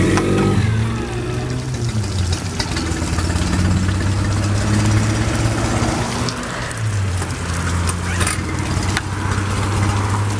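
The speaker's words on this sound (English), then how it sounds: "As you can see, I'm gonna start it up again and it'll start first pull." A 2008 Tohatsu 9.8 hp four-stroke outboard motor is pull-started and runs, giving a steady close idle with a few small rises in revs and no speech over it.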